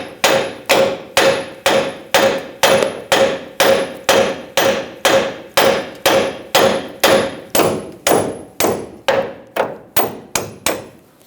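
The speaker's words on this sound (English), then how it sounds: "Now you can try to hammer this upwards." Hammer striking a Chevrolet Silverado 2500 HD pitman arm from below, about twenty-five sharp metallic blows in a steady, even rhythm, close and loud, with no talking.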